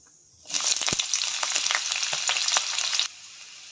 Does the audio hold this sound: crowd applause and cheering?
no